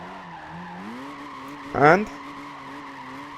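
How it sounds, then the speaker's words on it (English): A car drifting in Gran Turismo 5 in third gear: a steady engine drone rises in pitch, then a brief, sharp tyre squeal cuts in midway before the engine note carries on, with a single spoken word at the start. "constant accelerating will make your car constantly drift"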